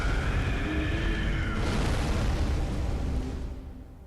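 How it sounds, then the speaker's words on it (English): A boss's palm slap explosion attack in Bloodborne erupts as a loud, sustained roaring blast that fills several seconds, then fades out. "don't be anywhere near him when he does his palm slap explosion move"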